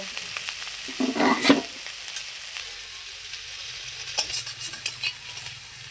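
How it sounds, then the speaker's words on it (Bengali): Neem leaves fry in a hot pan and are stirred, giving a steady close sizzle broken by a few scraping and clinking strokes of the spoon, with no talking. "এই যে বন্ধুরা, আমার নিম পাতা ভাজা হয়ে গেছে, নামিয়ে নিচ্ছি"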